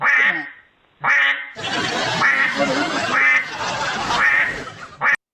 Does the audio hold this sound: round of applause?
no